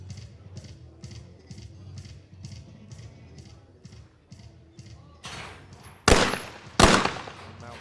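Two sharp, loud shotgun blasts at skeet clay targets, close together near the end, in the women's skeet final at the ISSF World Cup Final in New Delhi 2024, after quieter rhythmic background sounds.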